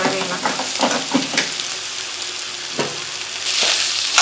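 Cooked rice is stirred through hot oil in a frying pan, giving a steady close sizzle broken by scraping strokes of a spoon, with a louder burst of frying near the end.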